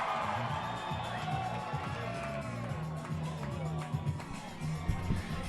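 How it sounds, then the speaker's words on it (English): Spectators at a Psicobloc climbing competition in Park City cheer and whoop from a distance, a steady crowd roar with scattered shouts and a few claps, while a commentator's voice runs over it. "Crowd really starting to build here in Park City"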